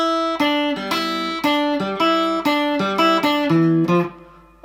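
Guitar playing the final two bars of a theme, a clear sequence of plucked single notes and paired tones in a steady rhythm, ending on a held low note, close and unaccompanied.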